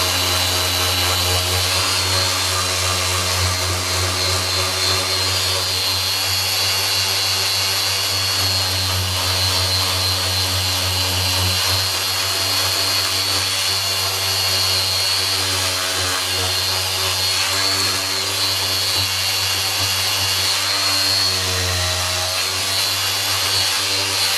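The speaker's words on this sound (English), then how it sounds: "So the best thing is just to grind it all off." Power tool grinding old, oil-contaminated material off a Bimota motorcycle fairing during restoration prep for paint, a steady loud whine and rasp running continuously close to the mic with no talk.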